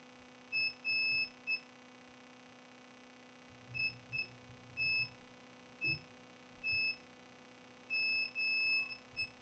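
Multimeter continuity beeper on an HP 250 G5 laptop motherboard with a short to ground, sounding a series of short, clear electronic beeps in irregular bursts over a steady low mains hum, with no talking.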